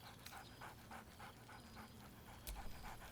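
A dog in the Baldur's Gate 3 video game pants steadily in quick rhythmic breaths with a soft whine mixed in, close and clear over a low ambient game background.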